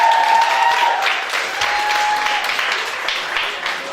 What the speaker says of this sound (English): a big round of applause for Trevor